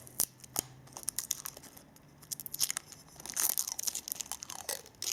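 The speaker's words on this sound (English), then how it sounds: "Just got to get this film off." Protective film crinkles and tears as it is peeled by hand off a Gemini Jets 1:200 FedEx MD-11F die-cast model airplane, with close, irregular crackling bursts that grow denser toward the end.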